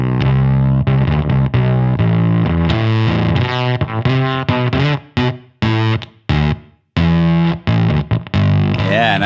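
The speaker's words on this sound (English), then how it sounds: "This pedal uses a trio of old stock germanium PNP transistors." Heavily distorted electric guitar through a pedal using three germanium PNP transistors, playing chords and riffs, thick and saturated fuzz tone with gated, sharp cutoffs between phrases, loud and close with no voices.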